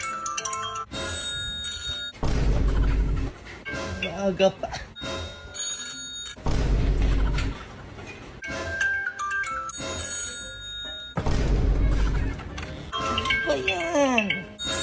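A ringing alarm, like a telephone bell, goes off in bursts in the morning, loud and repeated several times with pauses between, while people talk over and between the rings.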